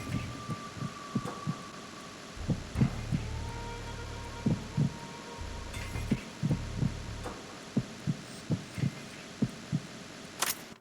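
Metal Gear Solid 2 sensor readout of multiple people's heartbeats in the Shell 1 core, a series of regular low thumping pulses over a steady electronic hum, with a brief synthetic tone and a few clicks.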